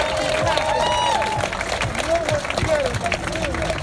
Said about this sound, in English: So I want y'all to make an outstanding noise for them. Clap it up, they deserve it.